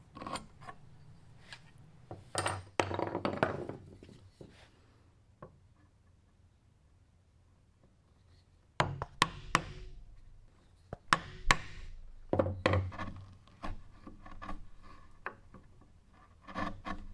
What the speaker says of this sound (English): Make a knife wall and chisel out the rest of that waste.